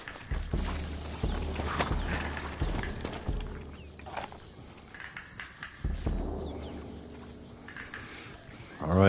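Horses in the Red Dead Redemption video game walk with irregular hoof clops alongside footsteps and faint birdsong, while a voice talks over part of it.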